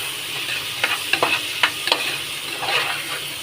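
Vegetables for veg pulao fry in a pan with a continuous sizzle, broken by several sharp scraping stirs of a spatula in an irregular rhythm, and no talking.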